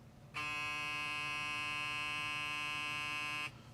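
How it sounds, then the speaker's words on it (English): Original Instinct hair clipper switched on and running for about three seconds, a steady close buzzing hum with a bright harmonic whine that starts and stops abruptly. "let's do a little noise test between the new Instinct X and the original Instinct."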